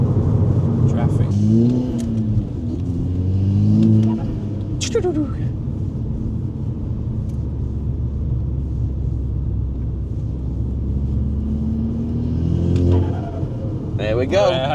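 A Scirocco R with its Milltek exhaust removed rumbles steadily, its engine revving up in a few rising pulls, heard from the cabin with a deep droning exhaust note.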